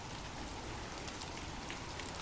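Steady rain falls without a break, a dense, even hiss of drops on a surface, constant in level with nothing else audible.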